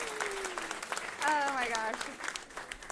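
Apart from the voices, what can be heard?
audience applause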